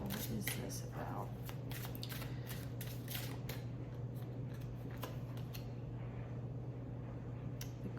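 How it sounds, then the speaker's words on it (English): Tarot cards are shuffled by hand in a quick run of soft riffling slaps and flicks, close up, beneath a steady low hum. "I will continue to shuffle"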